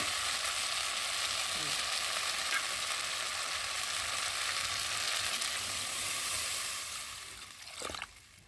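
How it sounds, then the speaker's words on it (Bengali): Spice paste for a parshe fish curry frying in a pan, a continuous close hiss and sizzle with faint scraping stirs, easing slightly toward the end where a louder clatter of the spoon is heard. "সুন্দরভাবে মশলাটা ভাজা ভাজা হয়ে এসেছে"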